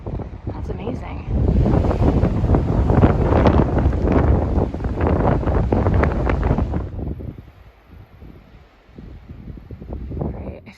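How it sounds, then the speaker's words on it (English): Loud, roaring wind buffets the microphone for several seconds at night by a lake on the Pacific Crest Trail, then eases into a quieter rustle before gusting up again near the end. "It was very windy."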